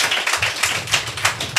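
A church congregation claps hands together in a quick, rhythmic beat of many overlapping claps, close and fairly loud, with no talking.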